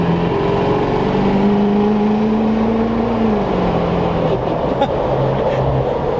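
A Duramax diesel pickup truck accelerating on an open road, a loud, steady in-cab engine drone with a rising then falling tonal whine, heard up close without break.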